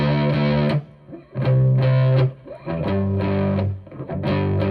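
Distorted electric guitar chords with a dull, muffled tone, the bright top end rolled off, played in loud sustained bursts with brief gaps.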